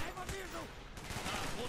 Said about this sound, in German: So viele Schüsse überall her.